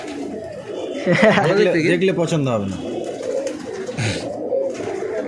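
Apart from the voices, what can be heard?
pigeon cooing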